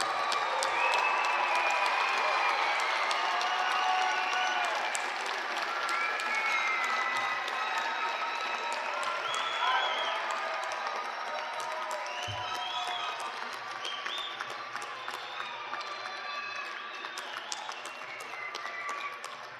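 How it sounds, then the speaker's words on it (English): Family and friends at a commencement ceremony clap steadily for the graduates, with scattered cheers and voices in a large crowd; the applause goes on for a long stretch and fades slightly toward the end. "please give our graduates a round of applause."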